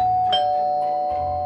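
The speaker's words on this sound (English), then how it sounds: "The doorbell rang again." A doorbell chimes once, clear and fairly close, in an indoor setting during a Halloween trick-or-treat visit, with a steady hum underneath.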